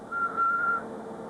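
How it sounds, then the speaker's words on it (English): A steady pure sinusoidal tone like a whistle holds one pitch for most of a second over a faint hiss, then drops away, leaving quiet background noise. "we're looking for pure tones, a sinusoid, like a whistle sound"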